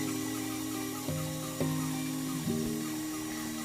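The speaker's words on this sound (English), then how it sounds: "Probably nothing more beautiful than the sound of a bandsaw" Bandsaw cutting wood for a Shaker bedside table, a steady loud mechanical hum with tonal whine that shifts pitch several times as the blade loads into the cut, running continuously up close.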